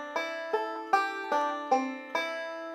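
Banjo playing a forward reverse roll through a flat 3 chord shape with an added 9, six plucked bursts of bright, ringing notes at a steady pace, close and clear with no talking.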